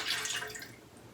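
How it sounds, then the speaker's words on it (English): Fragrance oil pours into melted wax for homemade scented wax melts, giving a soft, steady liquid trickle with light dripping, close and quiet, with no talking. "now I'm pouring in my fragrance oil"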